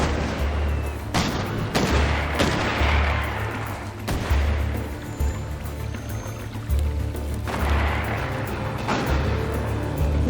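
Gunfire in a Hard West II cutscene, several loud sharp shots ringing out irregularly over a low rumbling backdrop, close and forceful with echoing tails.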